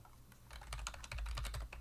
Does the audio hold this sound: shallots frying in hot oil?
no